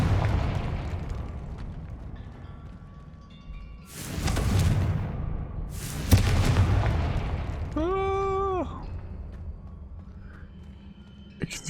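A Confringo fire-blast spell from Hogwarts Legacy erupts as a loud, broad burst around four seconds, followed by a second blast near six seconds. A rising, warbling magical tone comes after, over steady game music and ambience.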